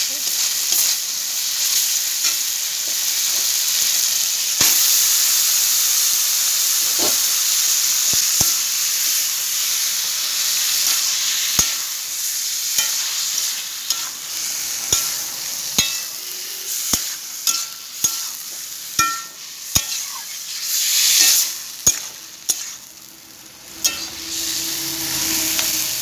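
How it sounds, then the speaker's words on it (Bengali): Kochu shak (taro leaves), already boiled, stir-fried in a pan for a Bengali recipe: a steady, loud sizzle with repeated sharp scrapes and clinks of a spatula that get more frequent toward the end. No one speaks. "এবার কচু শাকটা দিয়ে দেবো।"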